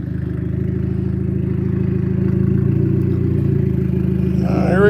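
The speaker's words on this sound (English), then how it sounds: "Well, your fucking exhaust is loose, dude." A car engine with a loose exhaust revs, its low rumble rising steadily with a rattling clatter layered on top, loud and close, climbing toward a sharper rev at the end.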